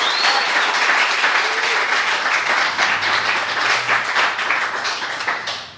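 An audience answers a question about fan fiction with a burst of loud, dense clapping from many hands, lasting several seconds before starting to thin out at the end.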